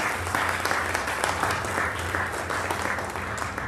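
An audience claps steadily and warmly at a live St Nicholas raffle event, a dense, even round of applause from a crowd indoors.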